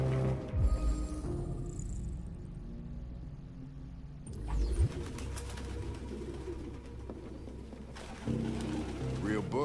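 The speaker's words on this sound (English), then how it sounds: "No human could live with all these fucking pigeons." Pigeons coo in short bursts in Detroit: Become Human, blending into a steady game ambience with low hums and a few louder thumps across the scene.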